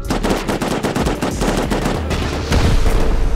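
Rapid automatic gunfire in the video game Rust during a raid on Launch Site, loud and close, with dense bursts of shots in quick succession that never let up.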